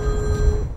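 A mobile phone rings in a film, a steady electronic ringing tone held for under a second over a low background rumble.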